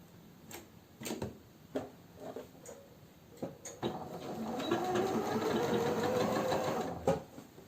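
Scattered handling knocks and clicks lead into a sewing machine stitching the seat seam of women's trousers, running steadily for about three seconds nearby before stopping, with no one talking.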